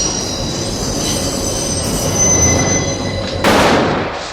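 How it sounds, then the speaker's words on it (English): A loud train rumbles past with steady roar and high metallic wheel squeal, swelling louder near the end. "Or is he waiting for the train to be super loud?"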